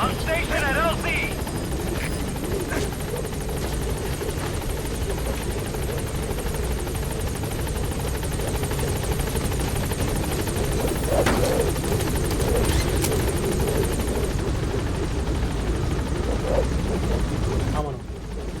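Pequod, the support helicopter in Metal Gear Solid V: The Phantom Pain, arriving at a landing zone, its rotor thrumming loud and constant throughout, with game voices and radio talk over it and sharp effects near the end.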